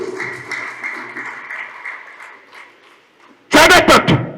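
A church congregation bursts into applause to praise God, a short loud burst of clapping that follows quieter murmuring and speech-like sound.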